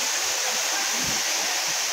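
Steady rushing water pours continuously at Dampalit Falls, a broad hiss filling the background with no talk.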